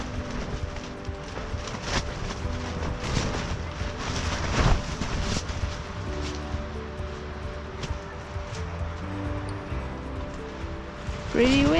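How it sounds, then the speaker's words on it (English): Wind gusting across the open ground at Great Sand Dunes, a steady broadband rush with low buffeting rumble on the microphone, continuous and fairly loud throughout. "Pretty windy."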